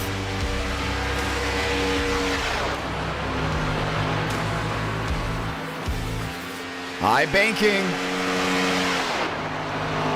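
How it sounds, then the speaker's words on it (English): NASCAR Cup Series race cars howl around the Watkins Glen road course, loud layered engine roar with revving and a car passing by, under a commentator's talk. "Hear these cars screaming."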